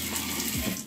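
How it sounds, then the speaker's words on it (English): A kitchen faucet in a converted bus sprays water into a deep sink in a steady, close hiss for just under a second. "we've got a nice deep sink, faucet, which sprays"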